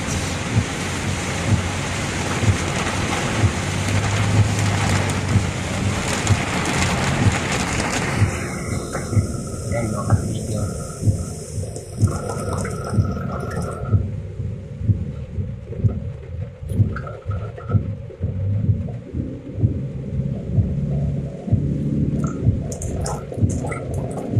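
Steady heavy rain pours down in Alabang in a dense, hissing roar, with pattering drops throughout and no voices.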